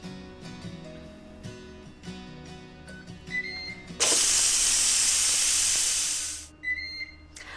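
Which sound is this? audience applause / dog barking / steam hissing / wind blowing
steam hissing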